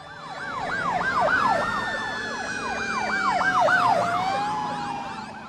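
Sirens of a VIP vehicle convoy wail in a rapid up-and-down yelp, fairly close and loud, swelling and easing as the vehicles move along, with road traffic rumbling underneath and no talk.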